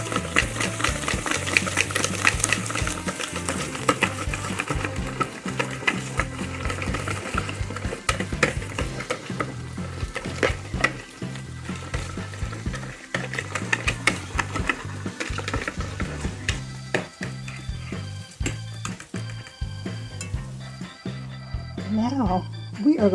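Stirring and scraping of an eggplant, onion and pepper mixture seasoned with salt and pepper, a continuous busy rattle of a utensil in a bowl or pan with some sizzling and occasional talk.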